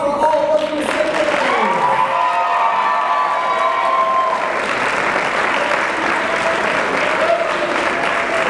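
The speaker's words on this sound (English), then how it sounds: "One more round of applause for all Orpheus Descendants." A high school theater awards audience breaks into sustained, loud applause for the cast, with some cheering and a short tonal sweep early on, the clapping continuing evenly to the end.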